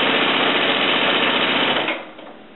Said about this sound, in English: As I'm stitching along,